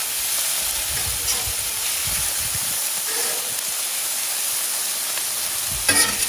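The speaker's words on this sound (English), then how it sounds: "You can hear it sizzling." Teriyaki-marinated pork sizzles steadily on a Blackstone griddle outdoors in cold winter weather, a continuous loud frying hiss with a few brief clatters and a sharper burst near the end.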